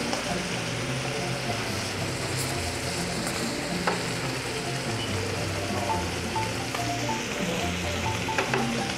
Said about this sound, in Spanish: Ya vemos que está sellando el lado del steak, ahora lo volteamos para sellar el otro lado.